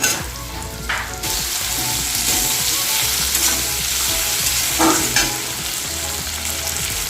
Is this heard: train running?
no